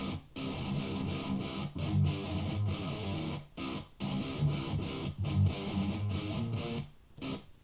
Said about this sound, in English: But yeah, this is a guitar tone anyway.